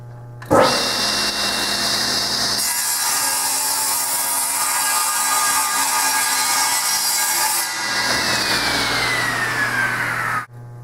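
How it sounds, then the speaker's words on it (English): A table saw with a sled squares one end of a wooden nightstand top, the motor spinning up, the blade biting into the board with a loud sustained whine, then spinning down, with no one speaking. "I'm going to use the sled to square up one end with the table saw."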